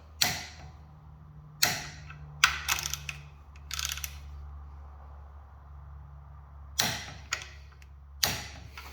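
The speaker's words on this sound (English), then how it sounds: "bring in the torque wrench. We're going to torque these to 45 foot-pounds." Torque wrench tightening engine bolts to 45 foot-pounds during a Mopar 361B teardown, heard as a few sharp separate metallic clicks and ratcheting bursts with quiet pauses between them, close up over a low hum.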